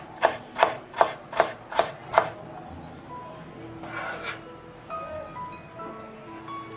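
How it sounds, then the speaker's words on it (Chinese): A knife chops dried preserved mustard greens on a cutting board: six sharp, evenly spaced chops up close, then a quieter stretch with faint scraping and light handling sounds. "然后切碎。"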